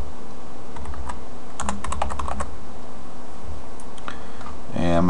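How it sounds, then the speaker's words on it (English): Quick bursts of typing on a computer keyboard entering a search in Ubuntu 10.10, a short cluster of close key clicks in the middle followed by a few more taps, with someone talking quietly around it. "I'm going to go ahead and type in Nautilus."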